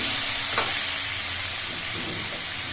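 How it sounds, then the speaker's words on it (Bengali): Okra and spice masala sizzle loudly in a wok, a dense, close frying hiss with a brief stirring scrape early on and no voices. "ঢেঁড়স দিয়ে আমি কিছুক্ষণ কষিয়ে নিয়েছি এবার মশলাটা দেখুন ফুটিয়ে দিয়ে কড়াইয়ের নিচে লেগে যাচ্ছে"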